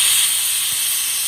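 Steam hissing steadily from an idli steamer pot used to reheat idiyappam, a continuous close, even high-pitched rush with no talk over it.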